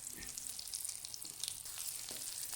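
Aloo tikki potato patties frying on a tawa griddle, a soft, steady close sizzle with faint crackles and no voices.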